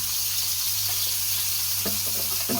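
Oil hisses and sizzles steadily in a hot frying pan where a piece of food is searing, with a few soft scraping or stirring knocks near the end, close and loud, no talking.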